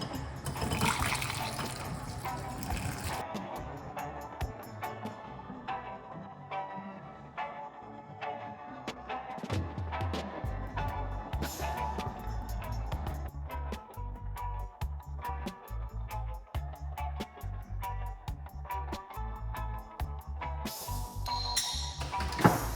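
Herbal tea of rosemary, ginger and clove being poured off into a mug, a steady close liquid stream with splashing and gurgling that fills the cup for most of the stretch, with no talk.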